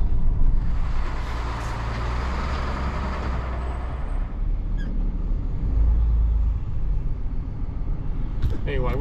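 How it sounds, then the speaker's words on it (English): A truck pulls a trailer out of a parking spot, its low diesel rumble steady and close, with a brief high squeal or air-brake hiss near the end. "he's moving the trailer out"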